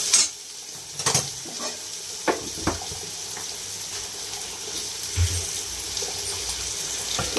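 Tomatoes frying in oil in a pan over a very low gas flame give a soft, steady sizzle, with occasional stirring scrapes and light utensil taps.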